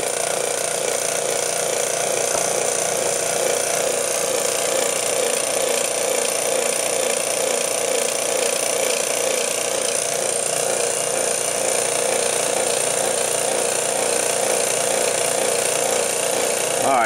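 A vacuum pump pulling down a cold vapor rig runs continuously, a loud, steady mechanical drone with a buzzing, rattling texture that holds unchanged for the whole stretch.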